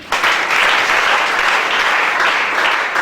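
A church congregation bursts into loud, dense applause for Jesus, a sustained wash of many hands clapping close and continuous for about three seconds without any voices over it.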